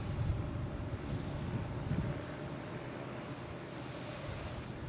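An Airbus A320 in Puerto Rico livery takes off from Boston Logan Airport, its jet engines a sustained broadband roar at moderate distance, slightly louder at first and then holding steady without talk.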